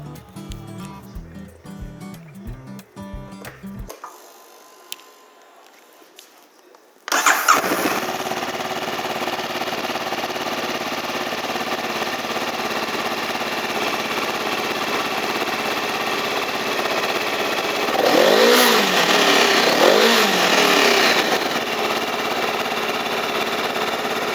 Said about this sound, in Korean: 배기음을 들어보겠습니다